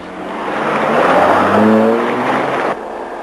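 A hot hatch, likely a Peugeot 205 GTI, Golf GTI, Escort XR3i or Alfasud ti, runs over a grooved, ribbed test track, giving a loud continuous road roar with a rising buzzing tyre drone that cuts off sharply near the end.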